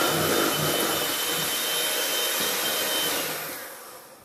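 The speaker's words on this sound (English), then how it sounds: "I'm gonna beat my egg white, my eggs, my sugar, and my butter until it's all creamy." An electric mixer beats eggs, sugar and butter with a loud, continuous whirring drone that fades out near the end.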